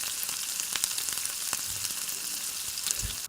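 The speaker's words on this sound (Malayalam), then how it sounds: "ഇനി ഇതിലേക്ക് 2 വലിയ സവാള ചെറുതായി കട്ട് ചെയ്തത് കൂടി ചേർത്ത് നന്നായിട്ടൊന്ന് വഴറ്റി കൊടുക്കാം" Chopped onions with ginger-garlic sautéing in a hot pan, a steady close sizzle and crackle with a few soft stirring scrapes, no talk.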